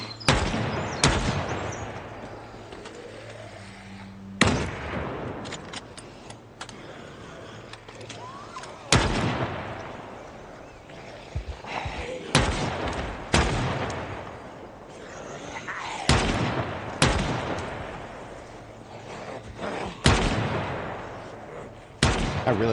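A Desert Eagle pistol fires in the Project Zomboid video game, its sharp, heavy shots spaced a few seconds apart and landing loud and close over steady background ambience and clatter.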